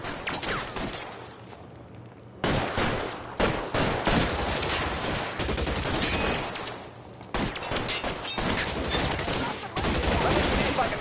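Bursts of gunfire in a shootout in the video game L.A. Noire, loud repeated volleys with short pauses between them, set over game ambience.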